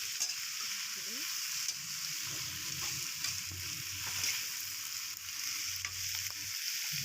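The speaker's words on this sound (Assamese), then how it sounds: "এতিয়া আমি মাংসখিনি 15 মিনিটমান সময় ভাজি" Duck meat frying in a pan for a pulao-style meal, a steady broadband sizzle running throughout with low bubbling and occasional light clinks, moderately close and alone.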